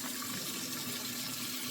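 Warm tap water runs steadily from a faucet into a sink or container in a kitchen, a constant close rushing hiss for the whole brief moment.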